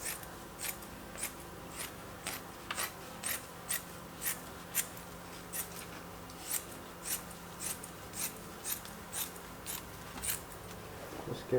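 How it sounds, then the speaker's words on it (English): Scissors snip through rugged carbon fiber material for a flat-bottom steering wheel, each cut a crisp, close crunch repeating in a steady rhythm roughly every half second against a quiet room. "I'll get a scissors and cut this stuff."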